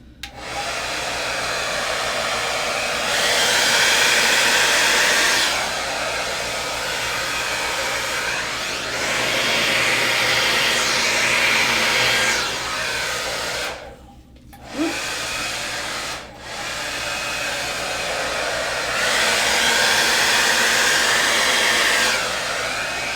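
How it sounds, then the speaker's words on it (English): A hair dryer blows loudly and steadily, its whooshing pitch shifting as it moves, with two brief cutouts where it nearly stops before roaring back. "let me grab my blow dryer"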